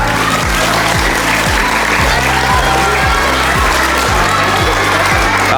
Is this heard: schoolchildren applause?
yes